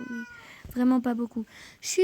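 A pet cat meows a few times in a home, the calls close and clear, mixed in with someone speaking French right over them.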